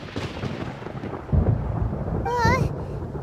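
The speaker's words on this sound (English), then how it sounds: "Paimon hears thunder!" Thunder rumbles in the Genshin Impact game during a storm, a deep rolling crash that swells twice over low ambient rumble, with a brief sung or voiced tone near the end.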